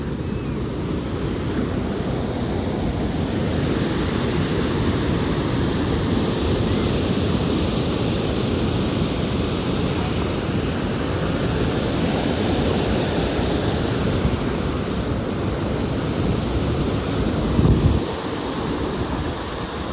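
Floodwater of a swollen river rushing in a constant, broad roar, close and loud with some wind buffeting, and no voices heard over it.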